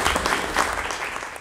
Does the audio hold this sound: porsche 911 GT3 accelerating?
no